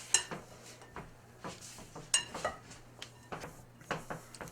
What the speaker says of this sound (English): Mix it really well.